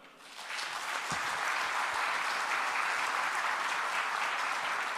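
Applause from delegates at a Turkish football federation general assembly, a dense steady clapping that swells in within the first half second and then holds loud and even to the end, with no talk over it.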